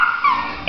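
A small dog whimpers and yips in high, whining bursts, close and fairly loud, with a brief sharper yelp at the end.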